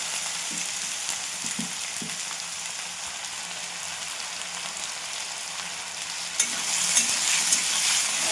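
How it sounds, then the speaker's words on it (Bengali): Cut potatoes fry in a pan with salt, giving a continuous close sizzle. A few soft stirring knocks come early, and the hiss grows louder and brighter toward the end, with no voices. "এবার কেটে রাখা আলুগুলো ভেজে নেবো ভালো করে"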